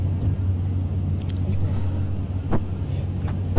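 Car driving through the streets of the town of Slonim, a steady low engine and road rumble from inside the vehicle with faint passing sounds, no clear talk.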